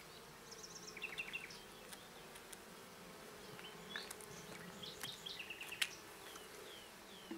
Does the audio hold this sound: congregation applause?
no